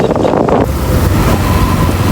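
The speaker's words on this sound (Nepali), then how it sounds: "आमा हावाले हान्यो।" Strong wind blowing outdoors buffets the microphone in a loud, continuous rumbling roar that swells slightly early on, then settles into steady blustery noise with no talking.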